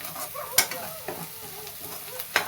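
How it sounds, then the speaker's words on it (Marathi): Onion fries in oil with chili and salt, giving a soft, low sizzle broken by a few sharp scrapes and clacks of a spoon stirring in the pan. "खरपूस भाजून घ्यायचा कांदा"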